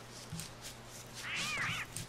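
Cats in the Don't Starve video game fight with a short, rising yowl and meowing squeal over low game background, moderately loud and close.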